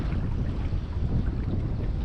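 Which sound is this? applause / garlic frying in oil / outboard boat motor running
outboard boat motor running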